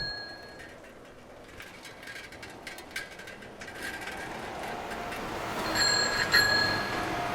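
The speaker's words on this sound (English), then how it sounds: "The most you will hear is bicycle bells." Soft small-town street ambience in Jaffna with faint bicycle bells ringing now and then, brighter chimes near the end over a low murmur of distant activity.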